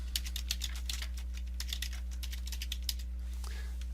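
Rapid keystrokes on a computer keyboard tap out a steady run of clicks close up over a constant low electrical hum, then stop near the end.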